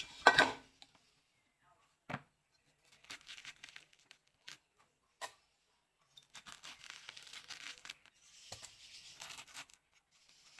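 A mature calabash gourd scraped by hand, giving short scratchy rasping bursts at uneven intervals, one loud stroke at the start, then quieter scrapes and a longer run of rubbing near the end, close and alone.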